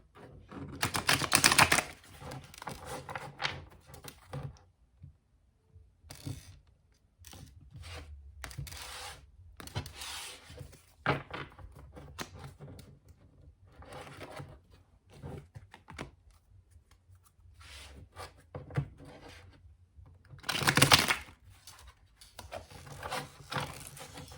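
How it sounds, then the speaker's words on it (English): Tarot cards being shuffled by hand in bursts of crisp riffling and soft rubbing flicks, close and fairly quiet, separated by short pauses, with no talking. "I always like to shuffle a little bit on camera."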